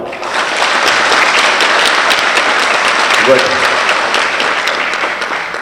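Loud, sustained clapping from a large audience in a school lecture hall in Nowshera, a dense wall of applause lasting several seconds with a brief voice heard under it midway.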